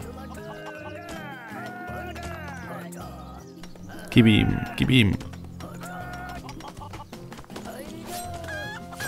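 Chickens cluck in the video game Craft the World, their short squawks and a sharp burst of flapping cries mixed with game music while someone talks over them.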